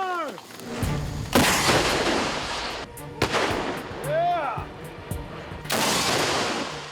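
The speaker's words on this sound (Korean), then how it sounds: "이번에는 미군이 쏠 차례입니다." A Carl Gustaf M4 recoilless rifle fired by US troops during a joint Korea–US Ssangyong exercise: several loud, sharp blasts with rolling echoes, a whistling sweep between shots, and faint voices in the background.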